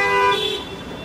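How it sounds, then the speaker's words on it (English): A car horn sounds on a festive Seattle city street at Christmas time, one short toot fading into the traffic hum. "Somebody honking."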